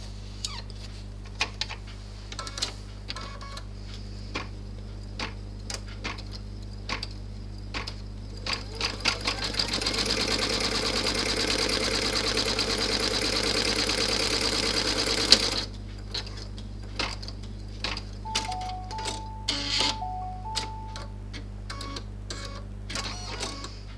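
A sewing machine stitching a 5x7 fortune cookie purse, starting with scattered clicks and short bursts, then a steady loud run of about six seconds, then stopping and returning to intermittent clicks and taps.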